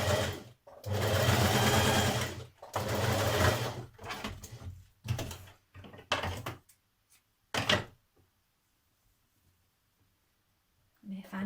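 A domestic sewing machine stitching the collar of a 1940s vintage-style blouse runs in several short bursts of rapid mechanical whirring, separated by pauses and small clicks, then falls silent before a brief final thunk.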